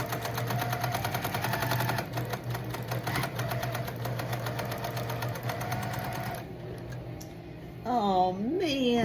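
Domestic sewing machine stitching quilt block pieces, a steady fast rhythmic whirring hum running continuously at close range, with a brief higher mechanical whine near the end as the fabric is turned.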